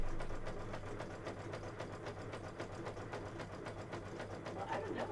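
An embroidery sewing machine stitching an Easter-themed panel, a fast, even mechanical chatter with a low motor hum running steadily throughout, close by, with people talking in the background.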